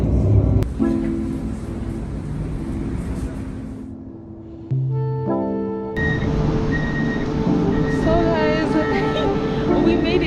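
A tram hums and rumbles at close range at Luxexpo, its last stop in Luxembourg City, with tonal electric whines and brief chime-like tones, and a voice speaks intermittently.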